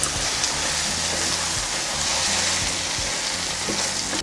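Cream sauce with crème fraîche, pepper and well-grilled bacon lardons sizzles steadily in a pan, a loud continuous frying hiss with faint stirring scrapes underneath.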